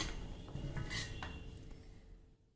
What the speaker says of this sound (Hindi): अचार के लिए सबसे पहले हमें ये कटहल का पीसेस को एक साथ मिला देना है इस तरह से